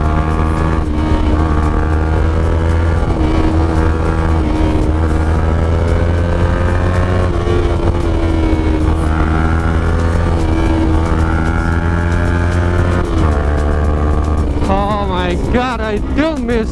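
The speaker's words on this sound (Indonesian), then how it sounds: "Gue kangen kencengnya nih motor." An engine roars continuously at high revs with rising and falling pitch, like a motorcycle riding fast, under loud wind noise and a voice talking.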